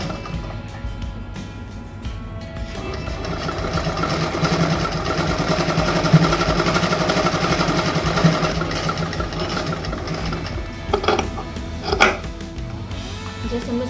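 A sewing machine stitches the collar lining of a kurti at close range, a continuous mechanical whir with irregular knocks and clatter and a few louder thumps toward the end.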